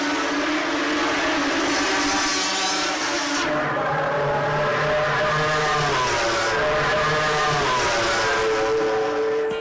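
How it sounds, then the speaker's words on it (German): MV Agusta three- and four-cylinder four-stroke Grand Prix racing motorcycles in the 350 cc class at Hockenheim in 1975, a sustained droning engine roar rising and falling in pitch as bikes pass, loud and continuous. "als die 3- und 4-Zylinder-MV-Maschinen mit ihren dröhnenden Viertaktgeräuschen den Grand Prix-Zirkus beherrschten"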